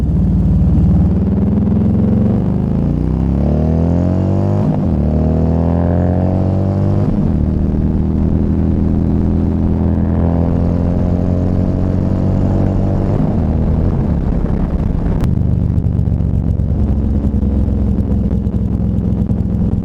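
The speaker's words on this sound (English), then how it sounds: "I will hit the highway and maybe get a little bit of high RPM stuff here." Harley-Davidson Road Glide engine pulling at high RPM on a highway, a loud, continuous deep drone with rising rev sweeps and gear shifts, wind noise over it, no talk.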